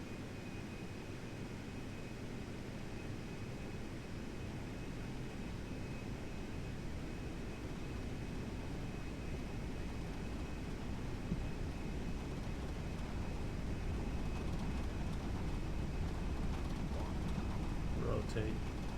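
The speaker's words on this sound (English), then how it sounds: "add full thrust and start rolling down the runway" Aircraft engine at full thrust in the FlightGear flight simulator as the plane rolls down the runway, a steady broadband jet roar with a faint high whine, holding level throughout.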